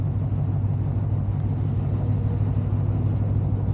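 A 500 hp Ford Mustang GT idles while warming up, its engine a steady, low, close rumble with no revving.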